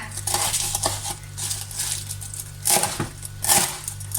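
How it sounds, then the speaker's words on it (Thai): Knife chopping wild vegetables on a board, a steady series of close cuts with a few louder chops near the end, over a low background hum. "หั่นอะไรก่อนนี่ผักป่านะคะ"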